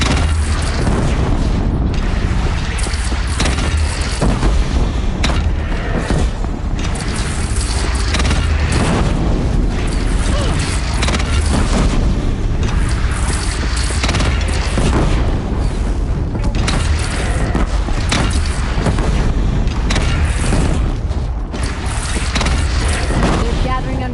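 Battle scene in Horizon Zero Dawn with a bandit clan's cannon booming amid continuous loud explosions and gunfire, dense and sustained throughout, with voices talking over the din.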